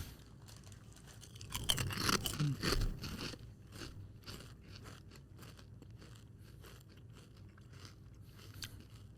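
Crunchy, spicy kettle-cooked chips are chewed and crunched up close, with dense loud bites early on that ease into softer, steady chewing and faint crackles.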